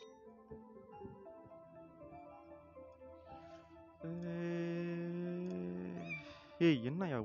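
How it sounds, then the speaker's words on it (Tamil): Cartoon cat meows from the mobile game Cats Are Liquid, a short cry sounding over steady game music, with a sharper, wavering mew near the end. "பாவம் நம்ம பூனை அழுதுகிட்டே போதே."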